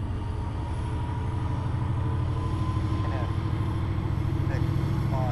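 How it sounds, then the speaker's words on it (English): An autonomous locomotive reverses back into a rail yard, its engine a steady, low, rumbling drone that holds evenly throughout. "There goes our autonomous locomotive reversing back into the yard where we saw the engineer earlier."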